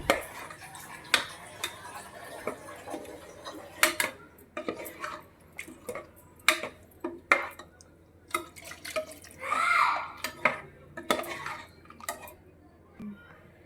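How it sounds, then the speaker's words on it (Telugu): A spoon stirs potato paneer curry after water is added to the pot, giving irregular metallic scrapes and clinks against the sides, some sharper knocks, and a brief wet swishing burst, close by with no talking. "వాటర్ వేసేసుకొని మంచిగా కలిపేద్దాం"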